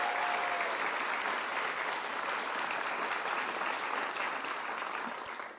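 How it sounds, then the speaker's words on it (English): An audience at a CreativeMornings New York livestream applauds the L'Alliance team in steady, dense clapping that holds at an even level for several seconds before tapering slightly at the end. "Can we give them a round of applause?"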